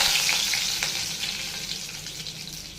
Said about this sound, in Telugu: బాండీలో 3 స్పూన్స్ ఆయిల్ వేసుకున్నాను. ఇంకోండి తాలింపు గింజలు, కరివేపాకు.